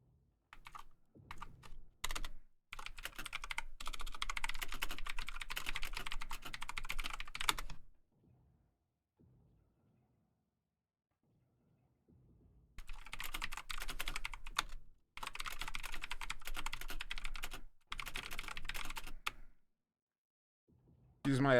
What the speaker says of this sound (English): Use my very loud mechanical keyboard.